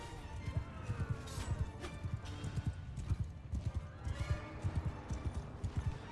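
Cavalry horses galloping in the video game Mount and Blade II: Bannerlord, rapid overlapping hoofbeats with a whinny, a dense close drumming that runs throughout.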